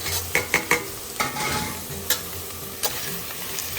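Onion and cashews frying in a pan for coconut milk rice, a steady close sizzle broken by several sharp stirring scrapes of a spatula early on and a few more later.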